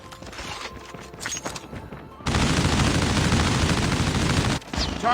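Machine gun fire in a combat video game, a dense, loud continuous burst that kicks in after a quieter stretch of mixed game sounds and briefly cuts out near the end before resuming.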